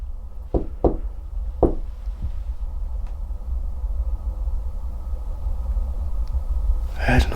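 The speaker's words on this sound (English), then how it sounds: "I heard another knock downstairs." Several knocks on a door somewhere downstairs in a house, three sharp raps early on, then a low steady rumble.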